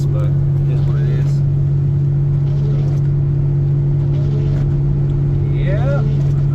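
A Pontiac Fiero with a swapped 3.4 engine cruises at 45 mph, its cabin filled with a loud, steady low engine drone and road rumble, with a person talking over it.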